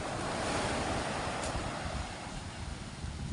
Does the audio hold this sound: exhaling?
no